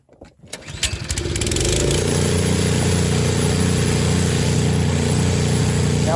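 A small Craftsman snow thrower engine coughs and sputters through a few uneven firing bursts, then catches and settles into a loud, steady, close running drone that holds to the end.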